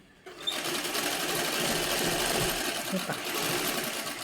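A sewing machine runs continuously up close as it stitches a fall onto a saree, a steady, rapid mechanical whirring that holds an even level throughout.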